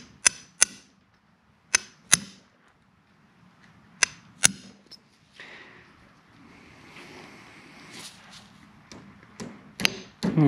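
Sharp metallic hammer strikes on a punch against a boat trailer axle, several irregular taps spaced apart, with quieter handling noise in between and a couple more hits near the end.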